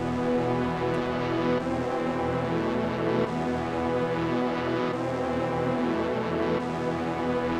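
A dense, steady Glo-style synth beat with layered brass-like stabs and keyboard chords, heavily EQ'd, loud and continuous with periodic accents throughout.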